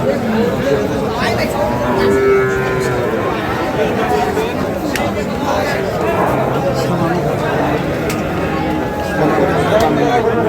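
Cattle low at a busy livestock market in Ambari, Dinajpur. A few drawn-out moos sound over a constant babble of crowd chatter and people talking nearby.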